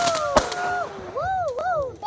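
Fireworks at a display in Temple, Florida: sharp bangs and rising whistles sound nearby while people whoop and cheer over them.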